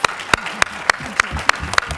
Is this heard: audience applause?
yes